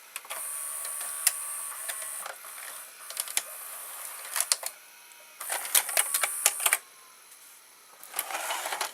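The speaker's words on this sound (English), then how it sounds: "Now I will press eject." The tape eject mechanism of a JVC HR-S3600U S-VHS VCR runs through a string of close mechanical clicks, whirs and ticks in irregular bursts over about nine seconds, with no voices.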